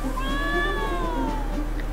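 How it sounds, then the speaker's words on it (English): A big green-and-gray cat in the Trials of Mana video game lets out a single drawn-out meow, rising then falling in pitch, heard close and clear over a low steady hum. "That's a big cat."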